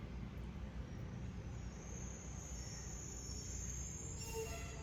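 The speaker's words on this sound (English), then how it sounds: "You're gonna get a little garbage can truck sounds to hold." A garbage truck heard from inside a home during a workout gives a steady, low, rumbling drone with broad hiss, faint and continuous, with a brief high squeal near the end.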